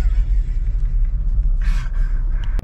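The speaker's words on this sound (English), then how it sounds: "you can hear it revving high, like there is something wrong with it" A car engine hums and rumbles steadily at high revs while stuck in traffic at the summit of Pikes Peak, with faint background bustle and a sharp click near the end.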